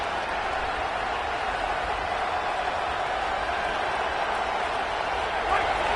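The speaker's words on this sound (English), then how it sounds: "listen to this crowd coming through" A football stadium crowd roars as a steady, distant wash of noise under a play-by-play voice, holding constant for the whole stretch.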